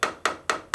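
A hammer taps the end of a screw to flatten it during a throttle body rebuild on a BMW R1100/R1150 motorcycle, four sharp, evenly spaced metallic strikes, close and clear.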